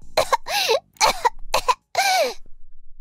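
Several harsh, raspy coughs from eating extremely spicy curry come in quick bursts with brief pauses between them, close and fairly loud.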